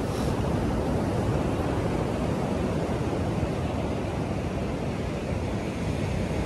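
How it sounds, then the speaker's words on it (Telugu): Ocean waves at Chirala beach at sunrise make a continuous, fairly loud wash of surf with no distinct breaks, joined by some wind rumble. "ఇదంతా కూడా బీచ్ ఎన్విరాన్మెంట్."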